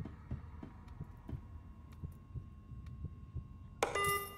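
A Roblox Pillar Chase 2 heartbeat, regular low thuds under a soft hum with a few faint ticks, then a sudden bright burst of sound cuts in near the end; no talking.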